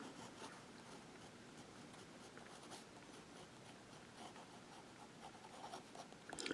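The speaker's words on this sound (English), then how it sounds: "You can get some reverse writing using this pen" A vintage Parker 51 fountain pen nib scratches softly and steadily across paper as it writes with the pen reversed, a faint, continuous dry rasp with no voices.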